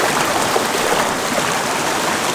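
River in remote Hawaii flowing steadily, a loud, dense rush of water close by that holds without a break and carries no voices.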